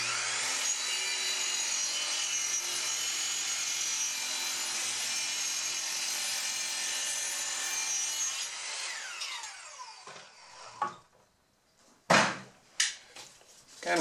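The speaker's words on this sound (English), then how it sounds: "Milling it up from rough walnut again." Rough walnut boards run through a milling machine in a loud, steady high-pitched whine for about eight seconds, then the cut fades out and a few sharp knocks of wood being handled follow.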